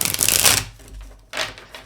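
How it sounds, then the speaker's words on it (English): Tarot cards being shuffled in two bursts of crisp riffling and slapping, the first longer and the second shorter after a brief quiet gap, close and fairly loud with no talking. "Let's get one more shuffle"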